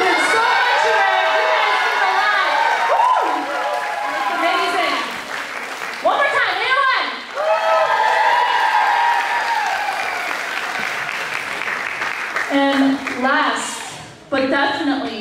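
An audience at a worship night claps and cheers for the dancers, with sustained loud applause, excited shouts and whoops, and voices carrying over the crowd, swelling again near the end.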